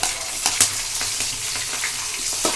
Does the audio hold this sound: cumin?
yes